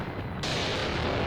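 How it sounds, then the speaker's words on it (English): Mortar fire in the WW2 game Mius Front, a dense, booming rumble of blasts filling the short span, loud and continuous with no talk. "These mortars, which they're firing with, because these are mortars"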